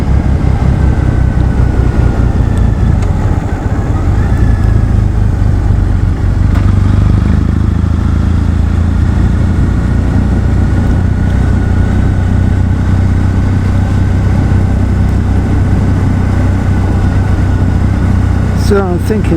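A Triumph Bonneville motorcycle's engine drones steadily and loudly throughout a ride, with a continuous low rumble and wind noise.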